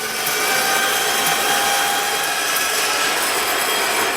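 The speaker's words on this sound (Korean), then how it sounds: "황동을 절단합니다." Brass stock being sawn by hand to make a bolster for a handmade copper-and-steel knife, giving a steady, continuous rasping close up with no pauses and no voices.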